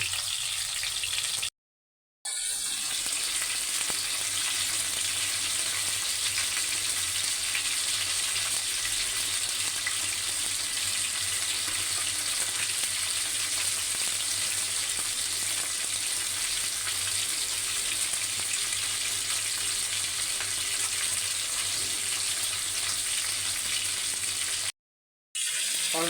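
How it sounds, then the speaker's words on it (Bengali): A whole tilapia fries in hot oil, giving a steady, continuous sizzle that runs almost the entire length, broken only by two brief silences near the start and the end. "এটা এখন ভেজে নেব গরম তেলের মধ্যে আরেকটা মাছ দিয়ে দেবো"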